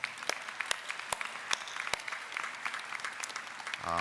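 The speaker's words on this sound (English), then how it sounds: "let's give him a round of applause" Quiet, distant applause at a college commencement ceremony, a soft steady patter of many hands punctuated by a few sharp nearby claps, with a voice starting to speak right at the end.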